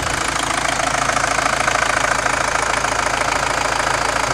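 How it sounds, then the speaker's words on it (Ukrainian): A Volkswagen Passat B5 engine idles steadily at close range, a continuous low rumble with a faint rhythmic knock throughout and no voices. "Звук мотора ідеальний."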